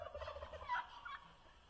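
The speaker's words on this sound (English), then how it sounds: "Turkey!" A farm turkey in its winter quarters lets out a short, close gobble midway through, heard faintly over a low steady background hum.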